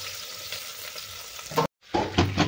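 Mustard seeds, curry leaves and chopped onion frying in oil for sambar, a dense near sizzle that cuts out briefly, then returns with stirring clatter.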